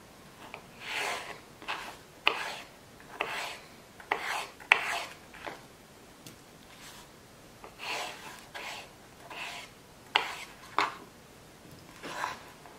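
A knife cutting raw potatoes on a board for a potato and fenugreek dish, with a series of quiet, irregular rasping strokes separated by short pauses and no talking.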